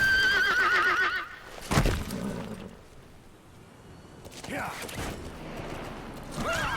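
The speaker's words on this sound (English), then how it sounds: "Dude, the fucking horse?" A horse in the Metal Gear Solid V video game gives a loud, wavering whinny at the start, then snorts amid scattered game noises, with someone talking briefly over it.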